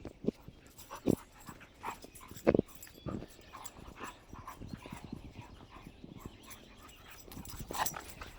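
A dog near cows gives a few short, sharp yips and barks, fairly quiet and spaced apart, with shuffling footsteps and outdoor rustling in between.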